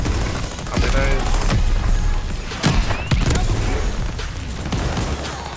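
The MARCO 5 submachine gun in Call of Duty Vanguard fires loud, close, rapid bursts with short gaps between them, and sharp mechanical clicks and impacts are mixed in.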